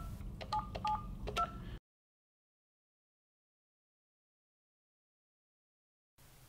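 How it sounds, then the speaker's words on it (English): Telephone keypad tones are dialed in a quick run of several short beeps, then a long silence, then a faint low hum returns at the end. "Dial the 10-digit number and the call will automatically be transferred to that number."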